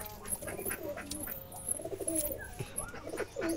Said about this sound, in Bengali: এটা একটা খয়েরি জালালি কবুতর,